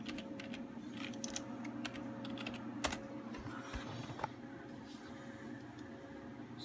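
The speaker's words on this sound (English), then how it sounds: "We'll just type the password." A password is tapped out on a computer keyboard as a PC restarts, a run of soft, quick key clicks with a couple of sharper presses over faint steady background hum, no voices.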